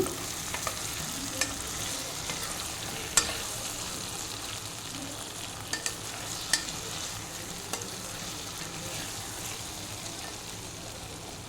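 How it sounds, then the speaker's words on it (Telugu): Brinjal pulao is stirred in a pan over a steady low sizzle, with scattered light scrapes and clicks from the spoon, close and with no voices. "ఇప్పుడు దీన్ని ఒకసారి బాగా కలుపుకోవాలి"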